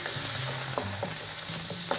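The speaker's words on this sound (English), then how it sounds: "so I'm frying off my chicken" Chicken pieces and sliced shallots fry in a pan over moderate heat, giving a steady close sizzle with intermittent scraping stirs against the pan, and no talking.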